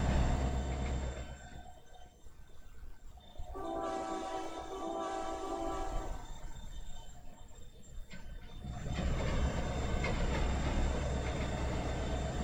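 A train runs on the rails of the Carrabassett Valley Railroad in a railroad simulator video game: a continuous loud rumble, broken by two long horn blasts, with no talk.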